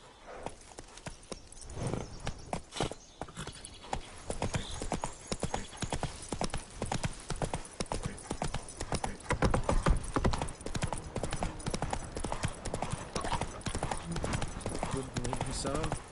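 Roach, a horse in The Witcher 3, galloping with fast, driving hoofbeats that grow denser and louder, close and continuous, with talking heard over the hooves.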